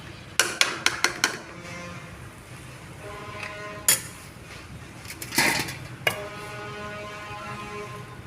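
A metal spoon stirs and scrapes masala in a cooking pan for a drumstick chicken gravy, giving sharp clanks in short bursts between softer scraping and quiet gaps.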